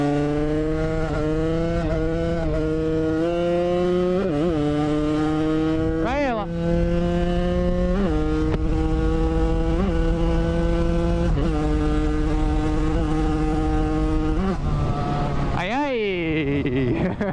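A Yamaha DT two-stroke motorcycle fitted with a Macra exhaust revs hard and close, its engine note repeatedly climbing and dropping in sharp blips over a steady idle, with a final high rev and fall near the end.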